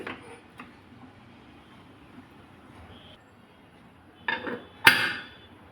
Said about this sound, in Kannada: ಲಿಡ್ ಕ್ಲೋಸ್ ಮಾಡ್ತಾ ಇದ್ದೀನಿ